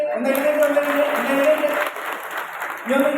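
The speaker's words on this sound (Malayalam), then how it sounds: "ഒരു വലിയ കൈയടി കൊടുത്തേ" An audience applauds a child who has just come up on stage at a children's event, a steady wash of clapping running through the whole stretch while a voice talks continuously over it.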